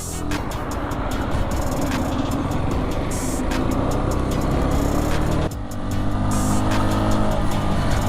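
A Keeway Cafe Racer 152cc motorcycle being ridden, its engine droning loudly and steadily with heavy wind rush, the tone shifting briefly midway before the steady roar resumes.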